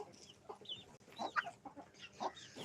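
A hen clucks in short bursts, a few low clucks and squawky calls spread across the clip, fairly close with some background noise.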